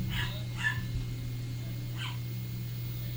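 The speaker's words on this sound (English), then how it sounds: "the dogs are barking there" Several dogs barking indoors during a home interview: a few sharp, fairly distant barks in two short bursts over a steady low hum, with no talk.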